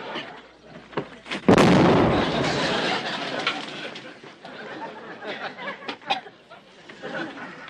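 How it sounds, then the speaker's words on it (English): A thrown hand grenade explodes in a sudden loud blast that decays into a long rumbling wash, with scattered voices and noises around it in a comedy scene. "I just pulled a pin in this grenade"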